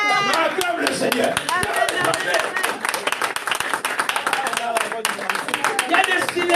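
A church congregation at a men's conference claps in a steady, fast rhythm, dense and continuous handclaps filling the room, with voices speaking and singing over them.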